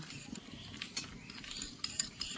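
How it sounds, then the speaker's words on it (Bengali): A spoon stirs sugar mixed with rose water in a bowl, making soft, faint scraping and clinking sounds in quick, uneven strokes, with a few brighter taps of metal near the end. "চিনির ভিতরে আমি গোলাপ জল দিয়ে দেব, ভালো করে মিশিয়ে নেব।"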